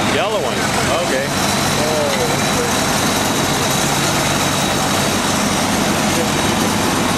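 A heavy tractor engine idles steadily throughout, a constant low rumble with a faint high whine, and people talk briefly near the start.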